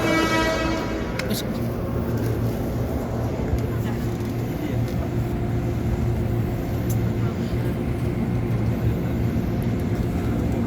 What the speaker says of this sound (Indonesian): Udah naik ke KRL terus tujuan ke stasiun Sudirman